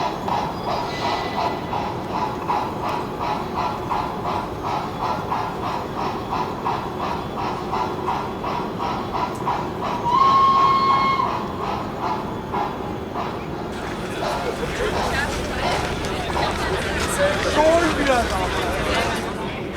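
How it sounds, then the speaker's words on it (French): A 141P steam locomotive moves off along the track toward its passenger carriages, giving a steady mechanical rumble with a brief whistle tone midway, heard under continuous French narration. "La belle 141P libère la voie et va rejoindre ses wagons voyageurs en gare d'Orez"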